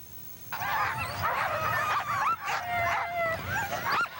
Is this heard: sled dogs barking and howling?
yes